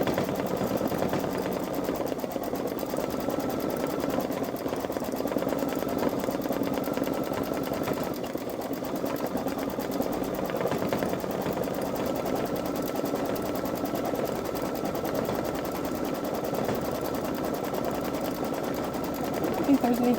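A Babylock Solaris 3 embroidery machine stitches steadily, a fast continuous mechanical whirr and needle rattle, close and even throughout, with a speaking voice heard at points over it.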